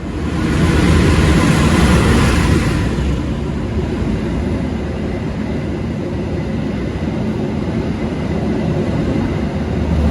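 Argo Bromo Anggrek passenger train pulling into a station: a loud, continuous rumble and rushing roar that swells over the first few seconds, then holds steady with no talk.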